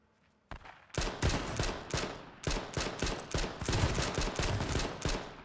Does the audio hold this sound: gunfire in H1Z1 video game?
yes